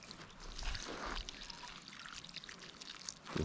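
Water pours steadily around a newly planted collard plant in a garden, a soft continuous trickle and splash, quiet and close, ending with a small clunk.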